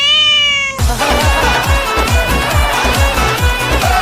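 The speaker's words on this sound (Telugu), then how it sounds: "మెల్లగా పిల్ల వచ్చి మియావ్ కూడా వచ్చింది." A cat gives a clear, drawn-out meow near the start, followed by a steady rhythmic beat of background music in a Telugu comedy short.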